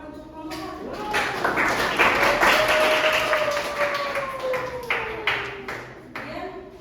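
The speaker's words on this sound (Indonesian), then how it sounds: "Oke, kita kasih tepuk tangan untuk kelompok 1." A classroom audience claps for a student group that just finished presenting, the applause running steadily for several seconds while voices murmur and talk over it.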